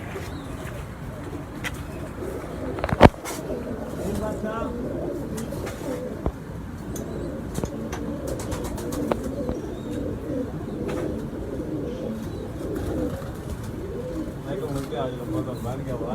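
Pet pigeons from a breeder's loft coo softly and repeatedly in the background, their low murmuring running under ongoing conversation in Hindi-Urdu, with a sharp knock and occasional rustling.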